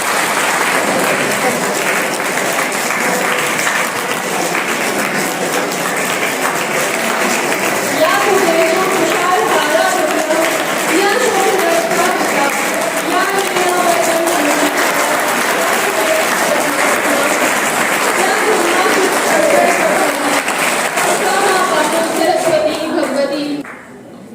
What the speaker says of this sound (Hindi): तालियों की गड़गड़ाहट के साथ